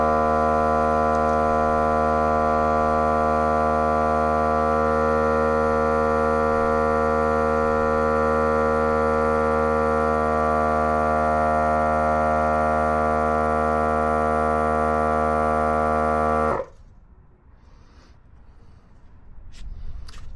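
A Milwaukee lift raises an ambulance off the ground, giving a loud, steady electric motor hum for many seconds that cuts off abruptly, leaving quiet background.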